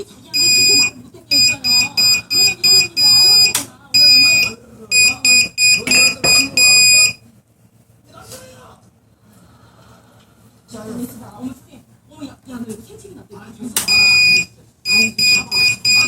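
Runner 250 Discovery alarm blaring in loud repeated bursts of high pulsed electronic beeping, with a pause midway where voices talk, then the piercing bursts resume.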